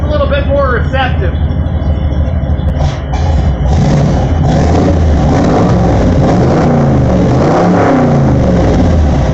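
An old square body Ford engine, cold-started in winter, revs hard toward redline, loud and close, climbing and falling in strong surges over a rough idle.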